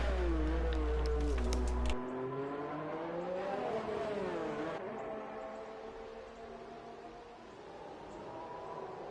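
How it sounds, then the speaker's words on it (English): A Formula 1 race car in the F1 2019 video game, on a wet Chinese GP track, drifts through a corner: a high engine whine bends up and down with the throttle, then settles into a steadier, quieter drone. "So we've got Seafreeze drifting around the corner here, trying to, I think, go on his flying lap"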